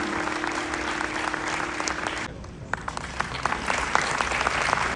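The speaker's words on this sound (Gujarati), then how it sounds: "તાળીઓ" Audience clapping at a Gujarati folk dayro for Jalaram Jayanti in New Delhi, a dense wash of applause that dips briefly midway then swells again with scattered sharper claps.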